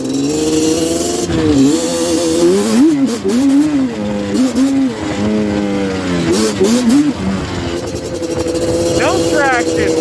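A Yamaha Banshee ATV engine revs up and down on snow, its pitch rising and falling in repeated bursts, with a voice heard over it.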